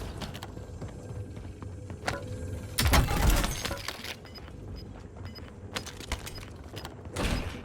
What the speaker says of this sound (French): J'enfile une plaque d'armure.